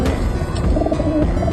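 A senior racing pigeon coos close by, a loud, low, throaty burbling that continues for the whole short moment.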